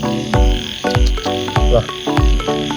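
A frog croaks loudly and close by at a rice field pond, a series of rhythmic, throaty pulses repeating every half second or so with no talk.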